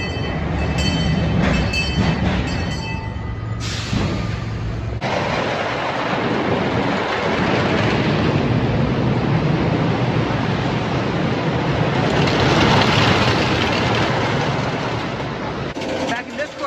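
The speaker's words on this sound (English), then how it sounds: "Loud train whistle. That's the train taking off over there." A loud, continuous rumble of a passing amusement park train at Indiana Beach fills the whole stretch, steady and close, with a brief higher whistle tone near the start.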